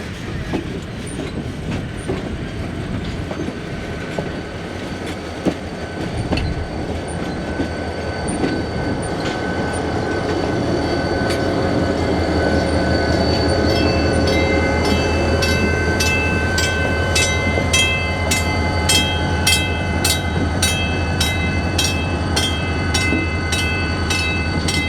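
An EMD 40-2 series diesel locomotive passes with its train at the Illinois Railway Museum, a loud, close rumble with rolling wheel clatter and a rising squeal of wheels on track.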